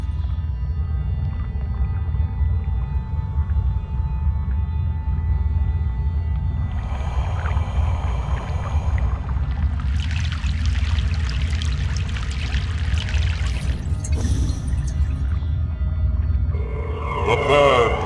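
A boat crosses a river in Broken Sword 3: The Sleeping Dragon, with a steady low rumble and rushing water throughout, plus brief bursts of higher splashing and pouring midway and near the end.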